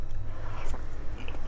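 Close, soft chewing of tender pork from Hong Kong-style rad na, a steady moist mastication with faint bites running throughout and no talking.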